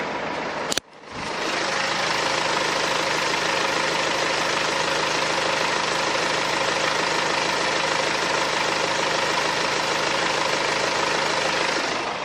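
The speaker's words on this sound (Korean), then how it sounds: "이렇게 지금 엔진 소리 들려드리기 위해서 본넷까지 열어본 상태고요" A BMW X1 20d xDrive diesel engine idles steadily and loudly with the hood open after a brief thump at the start, a constant low rumble with a slight knocking texture, no talk.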